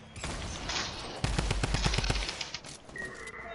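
Rapid gunfire in an online shooter game, a burst of loud repeated shots in the middle of the stretch after a few earlier reports, close and harsh, with no talk over it.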